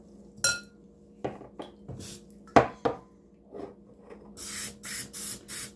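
An aerosol can sprays an Easter egg bird feeder in short hissing bursts mixed with clinks and knocks of handling, then several quick close sprays near the end.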